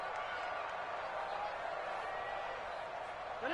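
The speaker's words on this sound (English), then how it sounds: "Listen to this crowd now." Crowd noise from a PS4 football video game during a tense final-minute two-point conversion, a steady roar of stadium cheering at even, moderately loud level throughout.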